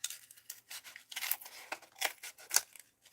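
Scissors snip through yarn hair on a handmade Nancy Drew rag doll, a series of crisp close cuts in uneven bursts with short pauses between them, no talking.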